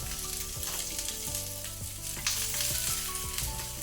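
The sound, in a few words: capsicum frying on high flame for chilli chicken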